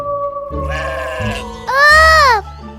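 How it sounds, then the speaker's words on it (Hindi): A sheep bleats loudly in a lone sound effect: a wavering call that rises into a strong, drawn-out bleat, heard up close with no voices. "मदद करो, भेड़ है।"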